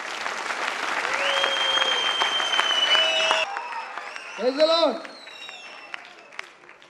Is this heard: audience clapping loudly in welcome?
yes